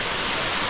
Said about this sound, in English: we are here right now at the level 7 of Erawan Waterfall